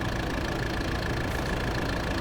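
Tractor engine idling in Farming Simulator 22 with a logging yarder hitched behind it, a steady low mechanical rumble holding even and continuous throughout, no voices over it.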